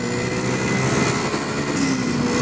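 A 1975 Suzuki T500, a 500cc two-stroke motorcycle, runs hard on a road beside Loch Ness, its engine note a steady, dense roar with a slowly rising pitch, loud and close throughout.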